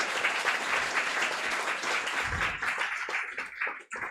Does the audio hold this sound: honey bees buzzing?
no